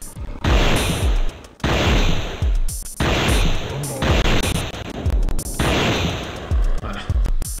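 Bursts of rapid gunfire in the video game Alone in the Dark: The New Nightmare come in repeated volleys, loud and close, separated by brief gaps of near silence.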